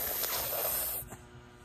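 A child imitates a snake with a loud, drawn-out hiss lasting about a second, then it cuts off, leaving quieter room sound.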